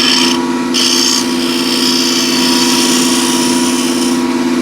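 A pulled-burr scraper cuts a maple block held in a screw chuck on a spinning lathe, making a loud, close, steady rasping scrape over the motor hum, with short breaks early on as the tool lifts and re-engages.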